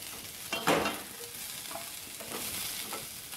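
Food frying in a kadai while being stirred, a soft steady sizzle broken by a few sharper scraping stirs, close and on its own without speech.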